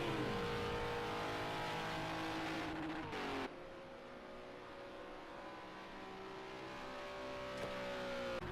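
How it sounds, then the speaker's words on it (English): GT3 race car engines in a racing video game droning and revving loudly and steadily, with a sharp gear-change drop partway through and no talk. "So Marius, he holds his course and he will cross the line to become the new leader of this race here"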